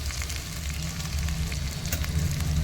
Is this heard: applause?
no